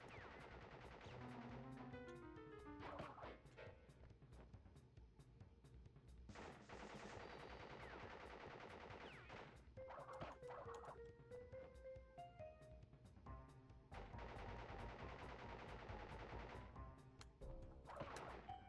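Repeated gunfire from a boss in the PS1 game Crash Bandicoot, rapid bursts of shots mixed with game music and crashing effects, loud throughout with no talk.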